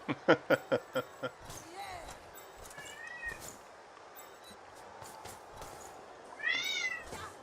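House cats meow in the background, with a quick series of rhythmic clicks at the start, then drawn-out meows that rise and fall in pitch, the loudest near the end, and someone talking faintly.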